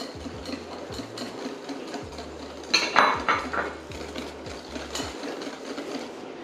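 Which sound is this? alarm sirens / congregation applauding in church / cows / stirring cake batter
stirring cake batter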